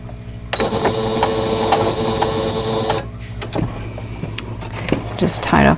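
Sewing machine embroidering an applique block for a Christmas basket quilt, a steady mechanical whir with rapid stitching rhythm for a few seconds, then stopping and giving way to lighter handling sounds and a voice.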